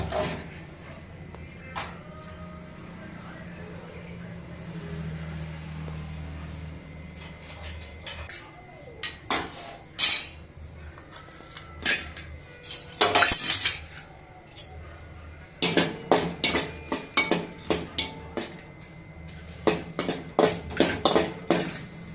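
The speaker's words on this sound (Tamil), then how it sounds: "மிளகாய், தனியா, பூண்டு மூணும் சேர்த்து வறுத்துட்டு இருக்காங்க." Red chilies, coriander seeds and garlic are dry-roasted in a pan for a pirandai chutney. A spatula clinks and scrapes against the metal in irregular bursts of clatter, with quieter stretches between and a voice at times.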